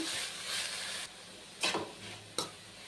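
Grated carrot and tomato frying in a pan for bread toast, a soft steady sizzle broken by a few sharp scraping stirs, close and fairly quiet with no talking.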